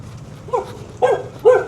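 A dog barks three times in the early morning on An Bang Beach main street in Hoi An, short, evenly spaced barks, moderately near over a quiet background.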